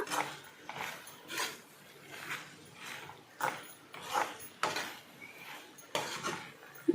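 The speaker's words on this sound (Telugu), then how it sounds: "బాగా మొత్తం అంతా కలుపుకుంటున్నాము" Cooked rajma curry being stirred in a pan, the spoon scraping and knocking against the metal in a steady rhythm of short bursts, close and moderately loud with no talking.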